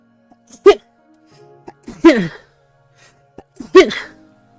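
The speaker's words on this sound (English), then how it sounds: "Why are my sneezes so cute? I'm just sneezing." Three quick, small sneezes spaced a second or so apart, each a sharp burst with a short breathy tail, close and otherwise quiet.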